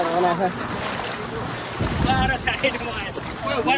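A car driving through floodwater on a village road in Gujarat, a churning splash and wash of water over wind noise, with people talking nearby.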